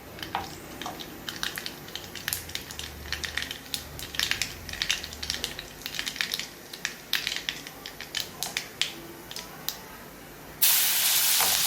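Mustard seeds spluttering and popping in hot oil in a pan, with sharp crackles bursting irregularly throughout over a soft hiss, close and fairly loud.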